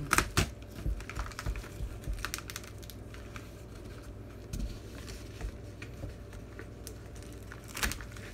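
Packaging on a vinyl LP box set holding six records gets opened, producing quiet crinkling, tearing and tapping handling noises with several sharper clicks close by, no talking.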